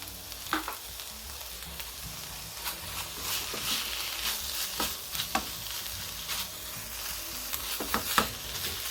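Onions sizzle steadily in a hot pan for grilled fish sisig, with scattered stirring scrapes and small crackling pops throughout and no voices.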